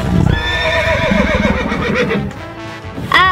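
A Little Tikes Princess Horse and Carriage toy plays a loud, close electronic horse whinny with a wavering neigh over clip-clop hoofbeats, ending in a second sharp whinny burst.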